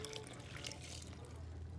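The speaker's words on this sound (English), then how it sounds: "And then the warm water." Warm water poured into a bowl of bread dough ingredients with butter, a short, close splashing trickle lasting under two seconds.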